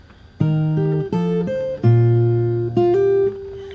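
Fingerstyle guitar plays one bar of a song from Beauty and the Beast, plucked notes and bass tones ringing together in four clear, evenly spaced phrases, close and alone without talk.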